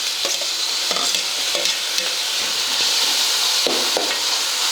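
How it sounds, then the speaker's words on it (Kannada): Small-cut tomatoes frying in a pan for palak dal khichdi, a steady close sizzle punctuated by regular scraping strokes of a spoon stirring, with no talking. "ನಾವು 1-2 ಟೊಮೆಟೊ ಸಣ್ಣ ಕಟ್ ಮಾಡ್ಕೊಂಡಿ ಅವನ್ನ ಹಾಕ್ಕೋತೀನಿ ನೋಡಿರಿ."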